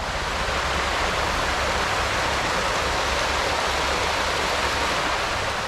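Water cascading down a hillside beside an old grist mill trough near Norris, Tennessee: a steady, dense roar of rushing water, even and unbroken throughout, close and fairly loud with no voices.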